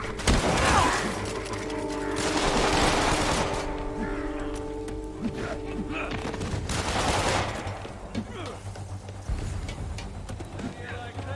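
Enemy gunfire in Marvel's Spider-Man, dense bursts of rapid shots and crackling fusillades in loud waves, mixed with mechanical clatter and action noise over a steady low rumble.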